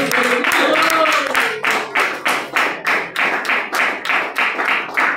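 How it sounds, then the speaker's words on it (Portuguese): A church congregation claps in unison for Jesus, giving loud, evenly spaced rhythmic beats, about two per second, after a voice fades out at the start. "E as palmas para Jesus."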